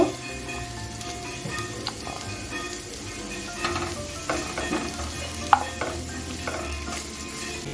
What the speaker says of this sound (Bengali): এখন আমি কেটে রাখা পেঁয়াজটা দিয়ে দিচ্ছি পেঁয়াজটা আমি গোল্ডেন করে ভেজে নেব